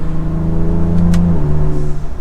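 A 2024 Ford Ranger Raptor pickup truck engine hums steadily from inside the cab, holding a low drone with a slight shift in pitch as it drives along.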